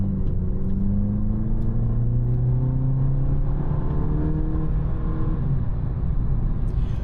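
A VW Polo GTI with a 2.0-litre turbocharged engine accelerates and revs hard, giving a steady, loud droning roar whose pitch climbs and falls as it gains speed, heard up close from inside with no talking.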